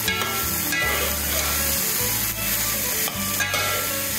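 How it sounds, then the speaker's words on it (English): Onions and carrots sizzling in a Dutch oven, a dense continuous hiss and crackle with occasional stirring, loud and close over a low background hum. "Cook this for a couple minutes,"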